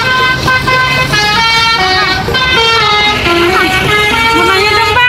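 A basuri musical horn on a Putra Luragung bus plays a sholawat melody loudly and close by, its tune shifting pitch continuously over engine and road noise, with voices faintly mixed in underneath.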